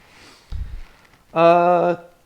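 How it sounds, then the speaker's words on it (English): A single cough lands close and loud on the microphone, with a brief breathy sniff before it, in an otherwise quiet room. "Way to cough right in the mic."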